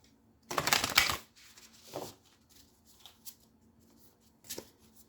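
Oracle cards being shuffled during a tarot-style reading: one loud riffling burst near the start, then a few softer shuffles and taps, close and without talk.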